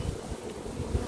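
Honey bees buzz around sealed honeycomb on a Jamaican bee farm, a dense close droning swarm hum with wind rumble against the microphone.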